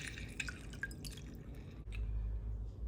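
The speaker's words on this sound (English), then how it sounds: "Now we're getting the juice out of my lemons." Lemons are squeezed by hand for juice, giving faint, close drips and small wet squishes that trickle into a bowl, with a low hum underneath.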